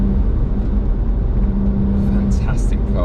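A BMW 1M on a winding road, its engine a steady in-cabin drone with a constant low tone while the car flows through bends; someone talks briefly over it near the end.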